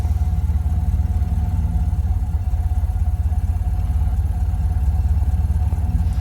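A Model A Ford engine runs steadily on a neighborhood street during a driving lesson, a low, even throbbing rumble with a faint mechanical clatter, close and constant with no voices over it.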